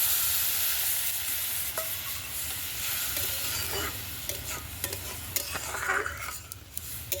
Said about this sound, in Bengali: 1 বাটি মতো জল দিচ্ছি।